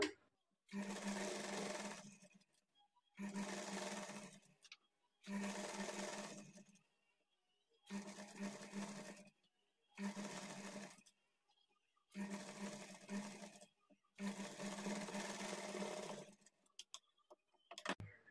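A sewing machine double-stitches the side seam of a blouse in six evenly spaced runs of rapid whirring, each a couple of seconds long and separated by short pauses, close and clear.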